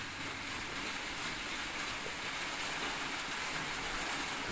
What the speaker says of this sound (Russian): Дождик сильный пошел.